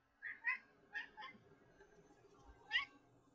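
A pet cat meows several times in short, high calls, twice near the start, a pair around the one-second mark and one more near the end, close and fairly quiet in an otherwise still room.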